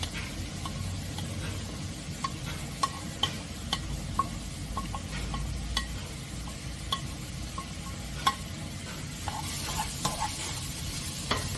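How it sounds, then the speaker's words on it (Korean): Carrots, Cheongyang chili peppers and fish cake stir-fried over high heat in a pan, a steady close sizzle broken by scattered clicks and scrapes of a utensil stirring. "당근하고 청양고추, 어묵 이렇게 다 넣고 볶아주시면 됩니다"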